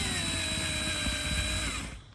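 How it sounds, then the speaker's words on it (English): A power screwdriver backs Phillips-head screws out of an RV marker light. It whirs steadily and close for about two seconds, then winds down. "just using a power screwdriver here"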